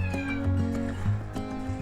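A cat meows in a small renovated bathroom, giving a few drawn-out, wavering calls in quick succession, close and clear with no talking.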